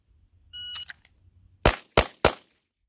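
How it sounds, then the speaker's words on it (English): A short electronic shot-timer beep sounds, then three sharp, loud pistol shots follow in quick succession, each a crisp crack with a brief ringing tail, evenly spaced about a third of a second apart. "So we'll go on the buzzer just to make it realistic."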